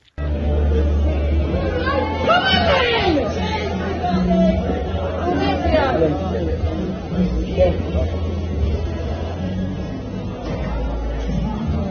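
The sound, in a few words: crowd reacting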